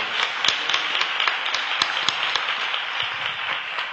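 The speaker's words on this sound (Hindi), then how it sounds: "जोरदार ताली प्रभु के लिए बजाएंगे।" Congregation applauding at a Christian worship gathering, a steady wash of many hands clapping with scattered sharper claps, moderately loud and continuous throughout without talk.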